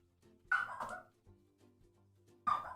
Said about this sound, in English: Maggie bark. Maggie bark.